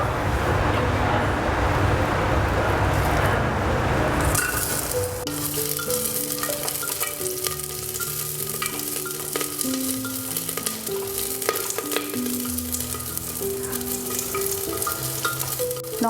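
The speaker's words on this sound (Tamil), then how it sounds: "எண்ணெய் காஞ்ச உடனேயும் கருவேப்பிலையும் வெங்காயத்தையும் ஆட் பண்ணிக்கிறோம்" Curry leaves and chopped onion hit hot oil and crackle into a loud, steady sizzle that keeps going under a low musical background, with a soft hiss and a few pops as they fry.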